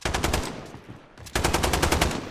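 Call of Duty Warzone gunfire, two bursts of rapid automatic shots at a steady rhythm, loud and close, separated by a short pause.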